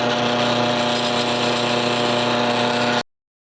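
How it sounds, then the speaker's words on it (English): A power drill whines steadily at close range for about three seconds, drilling a hole for a lathe follow rest, then stops abruptly into silence. "let's see if we can drill this hole"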